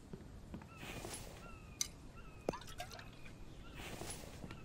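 Water is drunk in the survival video game The Infected, heard as a few soft liquid drips and gulps with small splashy plinks, quiet and close against faint ambient background.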